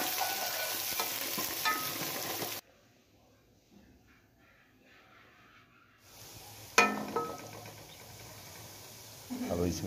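Chopped onion and ginger fry in a pot over a low flame, a steady close sizzle that drops away for a few seconds before resuming with a sharp burst of hissing and stirring.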